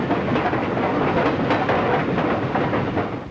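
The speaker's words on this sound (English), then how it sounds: "the Flying Mercury of the New York Central running from Cleveland to Detroit" New York Central's Flying Mercury passenger train running between Cleveland and Detroit, a steady dense rumble and rattle of wheels on rails with faint clickety-clack, loud and continuous with no voices.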